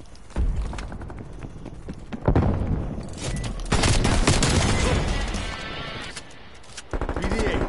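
A frag grenade is thrown and bursts in a video game firefight, with gunfire crackling throughout and sharp booms standing out over a busy, loud battle mix.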